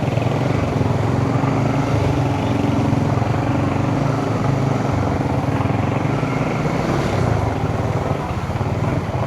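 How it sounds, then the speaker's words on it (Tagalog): A motorcycle engine runs at night with its exhaust pipe submerged in floodwater on a city street, a loud, continuous, close rumble with a low throb that stays steady throughout, with no voices. "Nalulunod na yung tambutso oh."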